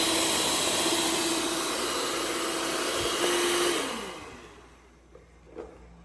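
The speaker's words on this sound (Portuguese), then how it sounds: "Bateu alguns minutinhos só mesmo pro chocolate tá misturando." An electric mixer beats chocolate cake batter for a coconut prestígio cake with a loud, steady whirring drone that then winds down and fades out, leaving a faint hum and a couple of small clicks.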